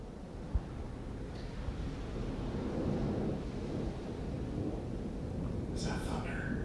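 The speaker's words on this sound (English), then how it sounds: "Is that thunder?" A faint, low rumble of thunder swells and fades in the distance inside a home during a paranormal investigation, with soft hiss underneath and a quick click near the end.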